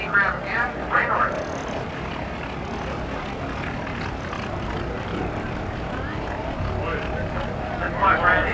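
Vintage propeller warbird, a Douglas Skyraider, roaring low overhead at the 1987 Confederate Air Force airshow in Harlingen; a steady loud engine drone fills the whole pass with brief crowd or announcer noise at the edges.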